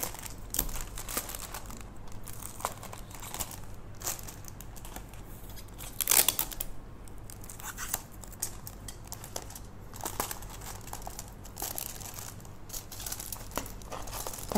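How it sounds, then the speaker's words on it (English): Paper being rolled and taped for a craft torch, with soft crinkling, rustling and small tape-pulling sounds continuing close by at low level, and one brief sharper burst midway. "Now use a tape to tape this."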